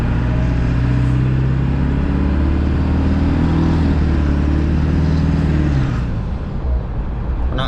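A Ford 7.3 diesel truck engine idles close by, a loud, steady low rumble and clatter that holds evenly for several seconds, then shifts slightly near the end.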